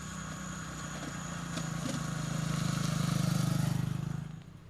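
A motorcycle taxi engine in Benin hums with a steady mid-pitched drone that swells to a louder peak before cutting off abruptly.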